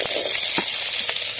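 Finely chopped onions hit hot oil with mustard seeds in a pan, giving a loud, steady sizzle with brief stirring scrapes breaking through the hiss.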